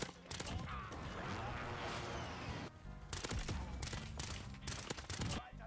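Suppressed weapon fire in the shooter game Modern Warfare comes as rapid bursts of muffled shots, with dense firing early on and then sharper separate bursts, close and loud, while a voice talks over it.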